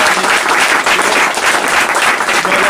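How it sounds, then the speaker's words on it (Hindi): An audience at a free organic farming workshop in Sagar claps in a dense, loud burst of applause that holds steady without a break. "आकाश भाई के लिए ताली बजाएंगे"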